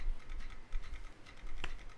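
Computer keyboard keys tapped rapidly while playing Clone Hero on a song, producing irregular soft clicks and patters with one sharper click near the end, quiet and without speech.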